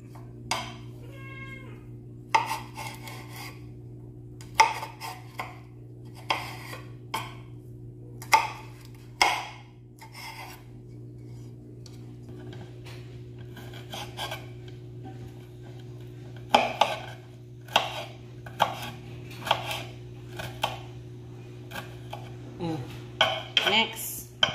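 Pickled santol being chopped with a knife on a plate rather than a chopping board gives irregular sharp clinks and taps in scattered bursts over a steady low electrical hum.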